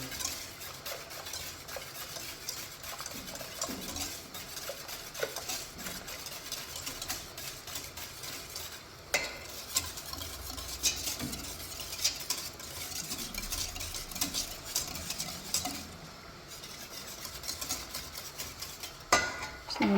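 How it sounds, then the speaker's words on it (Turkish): A milk pudding mixture with eggs is stirred steadily in a pot on the stove, with a continuous scraping and swishing and occasional clinks of the utensil against the metal. "Kaynayana kadar da sürekli karıştırıyoruz bunu."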